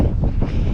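Wind buffeting an outdoor microphone in a garden, a dense low rumbling roar that fills the whole short stretch with no pauses and no talk.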